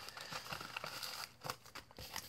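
Plastic bags are crinkled and rustled by hand during an unboxing, a busy run of close crackling crunches and scrapes with no voice.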